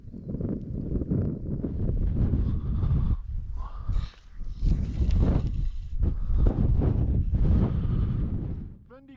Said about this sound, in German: Cold northeasterly wind, fished around the lake, never saw a fish